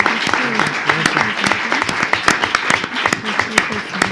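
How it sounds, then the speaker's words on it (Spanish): Audience applause at a poetry reading of Ernesto Cardenal's work, a steady patter of clapping with sharp individual claps, heard under a speaking voice that continues throughout. "Vamos a aplaudir."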